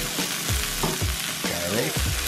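Turkey seasoned with curry powder, smoked paprika and garlic powder fries in a pan, with a loud close sizzle and several scraping stirs of a utensil, no voices.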